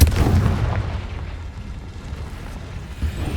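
Fiery Confringo spell blast in the video game Hogwarts Legacy, a deep booming explosion bursting at the start and rumbling on as a low, steady roar, with no voices.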